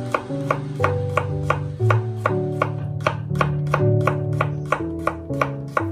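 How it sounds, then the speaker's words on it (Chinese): A kitchen knife slices garlic cloves on a cutting board for a green bean dish, giving about a dozen crisp, evenly spaced taps over steady background music. "我们把大蒜给它切成蒜片"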